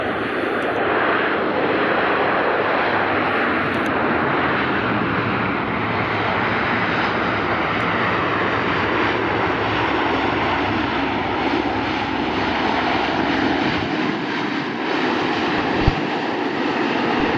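Airliners at Vancouver's YVR airport: a loud, continuous aircraft engine roar rises and holds for over seventeen seconds, a broad close jet rumble as a plane lands or takes off, with no voices heard.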